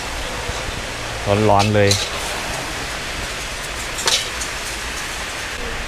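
Rain falls steadily around a street food stall serving fried rice, a constant close hiss that runs throughout while someone speaks briefly over it.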